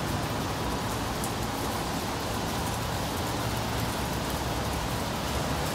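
Heavy rain pours steadily around a parked 2011 Mercedes-Benz outdoors, a dense, constant broadband hiss with no break in its intensity throughout.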